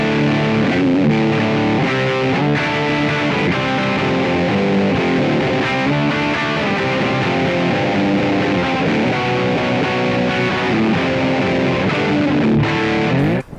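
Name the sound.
electric guitar through 6L6 tube amp simulation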